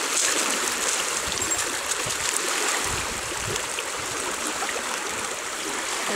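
A fast river rushes toward Lake Superior, a broad, steady outdoor roar of churning water heard up close for about six seconds without any voices.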